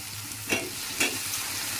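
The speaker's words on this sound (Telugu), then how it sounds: "వేయండి కదా కూరపెండ ముక్కలు వేసుకోవాలి" Purple yam (kura pendalam) pieces frying with onions in a masala curry pan, a steady sizzle broken by two brief stirring scrapes, close and alone with no talk.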